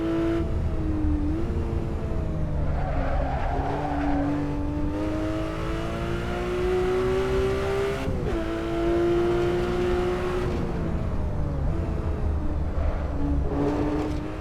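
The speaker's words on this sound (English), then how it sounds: "I'll let you hear the engine note, because it sounds really good." A car engine revving in the Assetto Corsa racing game, a free car mod. The note is loud, steady and prominent throughout, pitch climbing and dipping with each gear change and throttle lift, with no talking.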